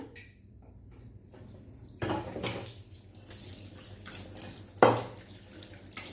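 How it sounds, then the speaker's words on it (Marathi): An iron kadai is rinsed under running water. Soft trickling gives way to several louder splashes and sloshes as the pan is washed, with occasional metallic scrapes and no talking. "आता आपण हे धुवून घेऊया"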